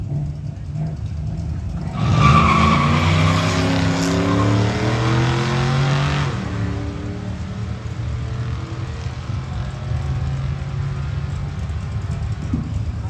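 Firebird and Mustang GT launching side by side in a drag race, loud engines roaring and revving hard at the start, then the rising engine note fading steadily as the cars pull away down the track.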